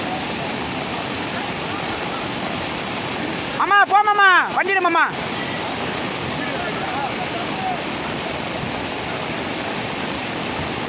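Floodwater rushing through a flooded village street in Tamil Nadu, sweeping along an auto-rickshaw wheel: a steady broadband roar of moving water throughout, with a brief burst of shouting voices near the middle.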